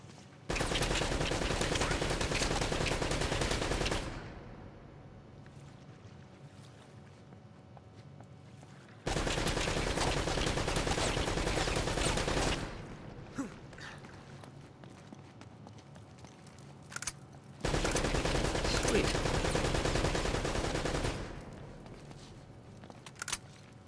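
Gunfire in Uncharted: Drake's Fortune, in three loud dense bursts of several seconds each, separated by quieter stretches of game ambience.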